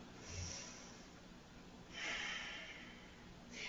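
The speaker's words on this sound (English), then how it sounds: "One more deep breath." Slow, deep breaths during a yoga session, a drawn-out inhale swelling and then easing into a soft exhale, fairly close and alone with no talk over it.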